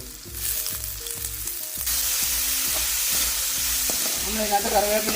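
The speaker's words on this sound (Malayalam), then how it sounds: "എണ്ണ തിളയ്ക്കുന്നതിന് മുമ്പ് തന്നെ കടുക് ഇട്ടിട്ടുണ്ട് കടുക് പൊട്ടാൻ തുടങ്ങിയിട്ടുണ്ട്" Mustard seeds crackle and pop in hot oil with small onions, a close, loud sizzle that builds suddenly and holds steady with scattered sharp pops.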